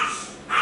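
A dog indoors gives a short, sharp bark or huff at dogs passing outside, close and brief.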